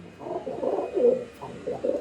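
Pigeons coo nearby in soft, throaty, repeated phrases that rise and fall in a loose rhythm, several calls overlapping over about two seconds with no talking.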